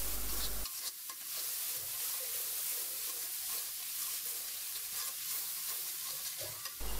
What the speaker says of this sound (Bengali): আর এখন দিয়ে দিচ্ছি চিংড়ি মাছের পেস্ট।